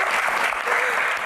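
An audience at a Q&A session claps briefly, with a short burst of dense applause and a voice faintly audible underneath.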